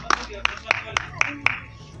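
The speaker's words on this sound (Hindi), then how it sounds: "जोरदार तालियों के साथ हम आपको आमंत्रित करते हैं।" At a World Human Rights Day event in Shyam Nagar, Uchehara tehsil, Satna district, a guest speaker is welcomed with six sharp, evenly spaced claps in a steady rhythm, close and distinct against a quiet room.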